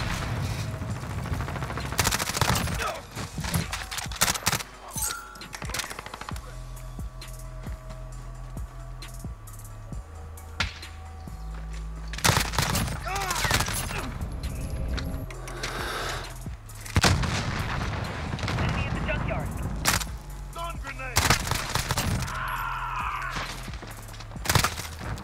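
Gunfire and explosions in the Modern Warfare video game, with an MP5 among the weapons: repeated bursts of rapid shots and heavy booms over 25 seconds, loud and close, with quieter gaps between.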